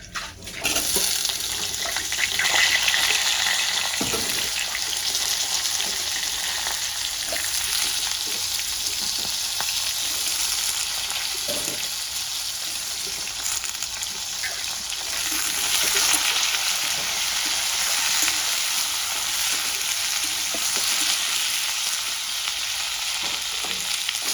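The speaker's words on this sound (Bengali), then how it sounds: "এবার আমি কেটে রাখা সবজিগুলো দিয়ে দেবো" Chopped drumsticks, potato and beans fry in oil with bay leaf and panch phoron, giving a loud, steady sizzle throughout with occasional stirring clanks and no talk.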